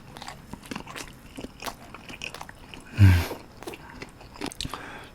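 Gimbap end pieces dipped in tteokbokki sauce are bitten and chewed close up, with soft wet crunching throughout and one louder bite in the middle.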